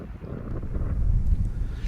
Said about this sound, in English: As you can see, super windy.